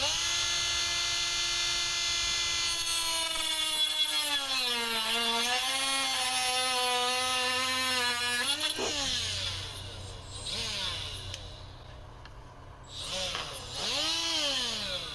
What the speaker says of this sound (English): Should you be cutting plastic with a die grinder?